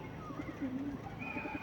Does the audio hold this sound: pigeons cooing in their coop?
yes